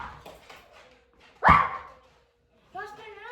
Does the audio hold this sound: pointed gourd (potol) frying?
no